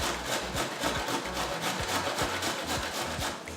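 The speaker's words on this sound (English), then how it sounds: "just go ahead and grate it" Cauliflower rubbed against a hand grater to make cauliflower rice, a close, steady series of rhythmic rasping scrapes, roughly three strokes per second, with no talking.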